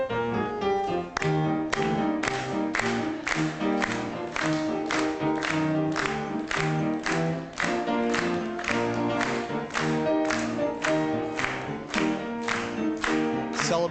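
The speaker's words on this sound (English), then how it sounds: "please rise and clap your hands to the Rhodes Fight song played by Debbie Smith of the music department" Audience at an alumni homecoming convocation clapping in steady unison along to the Rhodes fight song played live, rhythmic claps repeating under loud, prominent music throughout.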